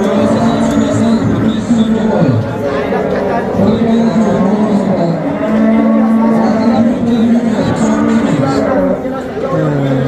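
Sheep bleat and call over the steady chatter of a busy crowd at the Khojaobod sheep market in Andijan, Uzbekistan.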